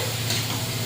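Vegetables and shrimp with turmeric and salt frying in a pan, a brief, steady sizzle and hiss with no pauses.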